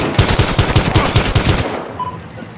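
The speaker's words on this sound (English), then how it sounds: "All units, 13 report shots fired at their location." Rapid bursts of automatic gunfire in the video game Battlefield Hardline, about eight evenly spaced shots in quick succession, loud and close, then stopping and leaving a quiet tail.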